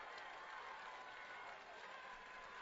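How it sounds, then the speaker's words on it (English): A Mater Dei high school football crowd roars and applauds on third and fifteen, a steady distant wash of cheering that holds for a couple of seconds. "Mater Dei crowd comes to life on 3rd and 15."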